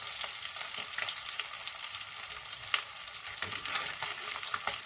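Fish pieces frying in hot oil, a steady crackling sizzle with fine popping spatters throughout, close and even in level, no voices.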